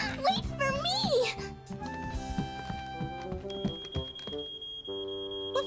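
A cartoon fire alarm, set off by burnt toast, sounds as a high, steady beeping tone that pulses at the end, heard over someone talking and background music.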